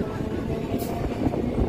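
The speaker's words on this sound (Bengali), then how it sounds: "এটা দমদম ক্যান্টনমেন্ট শিয়ালদহ লোকাল" Dum Dum Cantonment to Sealdah local train rumbling along, a steady low mechanical roar of the carriages with a brief hiss, heard from nearby and continuous throughout.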